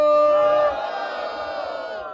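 A battle rap crowd at a regional final cheers and whoops in a loud, sustained roar that eases slightly but carries on to the end.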